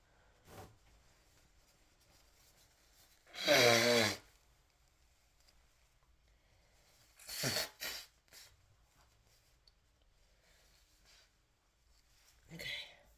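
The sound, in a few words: person blowing nose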